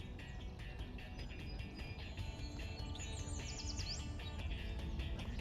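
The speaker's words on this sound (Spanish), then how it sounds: "Ahí están esos pajaritos otra vez." Birds chirp in a busy, steady chorus over a dense background of insect-like buzzing and noise, with a brief sweeping call near the middle.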